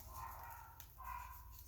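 A house dog gives faint, whiny barks and yips from another room, two short bursts heard alone at low volume.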